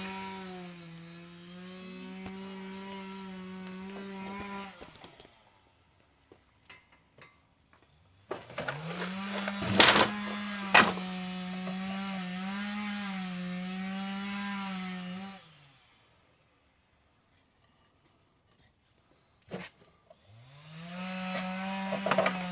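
A power drill boring a hole in a diesel parking heater fuel tank, with a whining motor tone in several sustained runs separated by pauses and a few sharp clicks and knocks.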